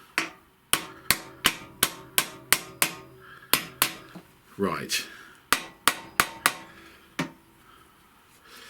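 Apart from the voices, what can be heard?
hammer tapping a headset bearing into a Honda Vision 110 scooter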